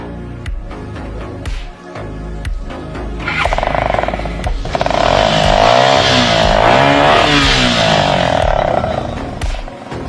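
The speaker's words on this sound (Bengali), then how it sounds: "আপনার গাড়িটা একটু স্টার্ট দেন তো।" Motorcycle with a modified silencer starting and revving, loud and close, a few sharp blips rising into sustained throaty revving that then eases off.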